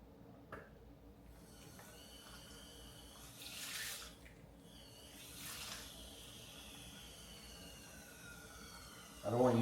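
Water poured from a tap into a measuring container to reach 300 ml, a soft steady trickle with brief louder gushes, low and close, with faint talk in the background.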